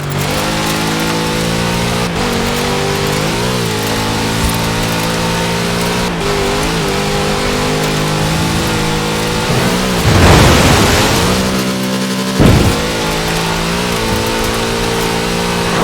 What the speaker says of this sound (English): Such power in the big Chevrolet engine.